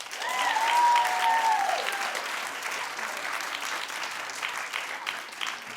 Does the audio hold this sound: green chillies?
no